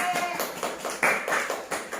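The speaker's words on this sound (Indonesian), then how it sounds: "Tepuk tangan dulu, Dek" Schoolchildren in a classroom clap their hands in a quick run of sharp, rhythmic claps, with young voices mixed in among the beats.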